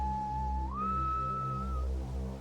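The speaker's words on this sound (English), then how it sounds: "and then I heard it, a strange whistling call." A strange, eerie whistling call rings out on a beach at night: one clear, sustained whistled tone that slides upward partway and then holds before fading, with no voices.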